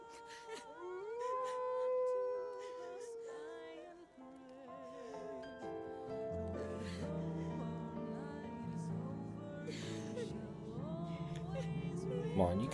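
A dog howls in Final Fantasy XVI, long wavering cries rising and falling over a swelling musical score, the howling prominent at first and then blending into the building music.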